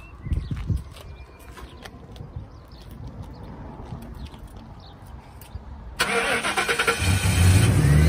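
A Lincoln limousine engine cranks and roars to life partway through, loud and close, after a stretch of quiet rustling and faint background sounds.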